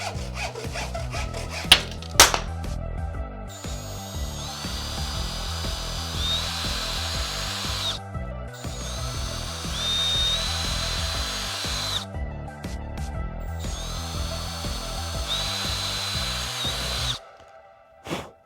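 A power drill drives a screw into drywall with a long, steady whirring grind that runs in several pulses, then cuts off abruptly near the end, with no talking.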